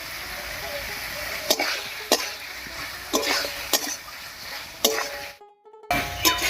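Spices with Kashmiri red chili powder and cumin paste sizzle in a pan for a thin Bengali fish curry of singi and magur. A spatula scrapes and stirs in periodic strokes over a steady frying hiss, with a brief silent gap.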